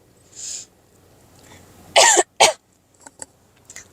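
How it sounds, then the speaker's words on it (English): Two sharp, close coughs from a person whose throat is irritated from inhaling oven cleaner come in quick succession amid quiet breathing and small mouth noises. "I've been coughing all day"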